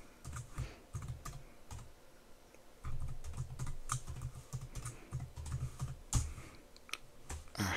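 Keys on a computer keyboard clatter as a password is typed, a fairly quiet run of irregular clicks and taps with short pauses and a couple of louder strikes, no voices.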